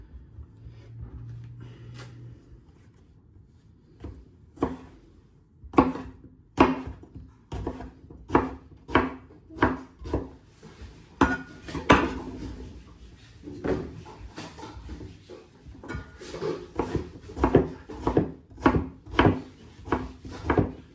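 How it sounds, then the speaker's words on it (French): A knife chops eggplant into small cubes on a cutting board, giving a long run of crisp, close taps in an uneven rhythm, sparse at first and then quicker and denser. "là je termine d'émincer l'aubergine"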